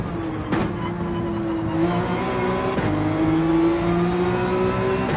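A race car engine in Gran Turismo 7 at Spa holds a steady, loud, high drone, with two brief sharp breaks in the tone as it shifts gears and keeps pulling.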